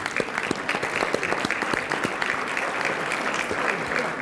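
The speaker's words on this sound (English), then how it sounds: "let's give them a round of applause" Steady applause from a seated audience at a university luncheon honoring Martin Luther King, with dense clapping sustained evenly throughout and no voices standing out.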